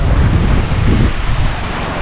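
Waves wash against the shore of a Thai beach near Patong, a rough continuous surf roar mixed with wind buffeting the microphone.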